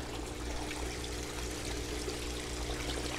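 Water runs steadily into an aquaponics grow bed filled with black cinder that is backing up, a constant close trickling pour with a low rumble and no voices.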